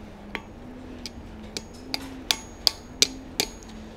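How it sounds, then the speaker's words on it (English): Hammer blows ring on hot steel over an anvil while forging a leaf. Eight sharp metallic strikes come at a steady, quickening pace and grow louder toward the end, with a low hum underneath. "Give it some hammer blows along the middle"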